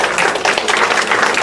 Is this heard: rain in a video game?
no